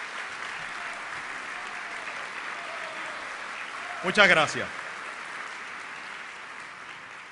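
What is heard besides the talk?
applause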